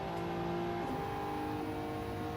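Race cars in a racing video game at Fuji Speedway hold a steady engine drone with a shifting whine, the pitch dipping briefly as they accelerate toward a corner, with no speech.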